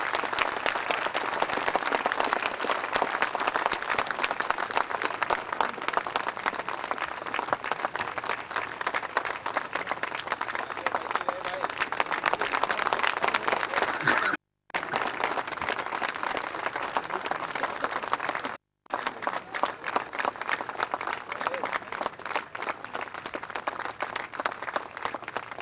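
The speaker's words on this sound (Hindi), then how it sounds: "जोरदार तालियां खड़े होकर बजाएं" A standing audience at a corporate gathering in Gorakhpur applauds loudly and continuously for about twenty-five seconds, dense clapping broken only by two brief gaps.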